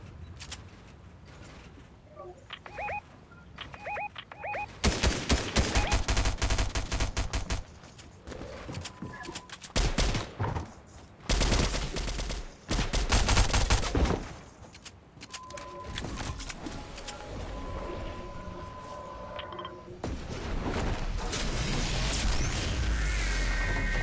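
Fortnite gunfire in a squads match, with bursts of rapid shots and loud impact crashes in clustered volleys, broken by quieter stretches that carry mechanical clicks and tonal game effects.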